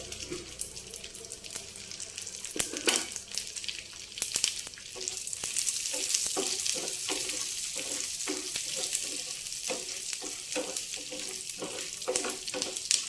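A ghee tempering of urad dal, mustard seeds, garlic and cumin for sambar crackles and sizzles up close, with a bed of frying hiss and a rapid scatter of sharp pops and spits.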